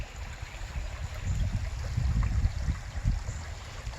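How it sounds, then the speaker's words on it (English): A small creek on a rural property near Otto, North Carolina, flows with a steady, low, rushing gurgle throughout. "As you can see, nice little small creek, large branch."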